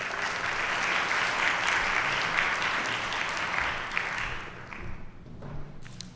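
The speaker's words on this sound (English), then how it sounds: "Give her a round of applause." An audience at a citywide community safety meeting claps in a sustained, dense round of applause that fades out toward the end.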